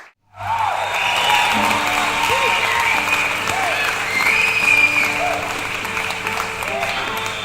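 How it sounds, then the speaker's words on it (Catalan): An audience breaks into loud, sustained applause at a live show, dense clapping filling the room while a voice and a tune carry faintly underneath. "un fort aplaudiment també per ella"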